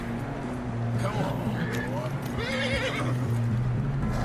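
A horse whinnies twice with rising and falling cries, mixed with hoof clops and a steady low rumble of game ambience and music underneath, in Red Dead Redemption 2.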